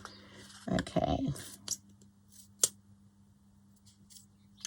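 Scissors trim a green file folder being made into a faux leather cover, giving a few close crisp snips and clicks, with a louder cutting burst early and a single sharp click later over a quiet room.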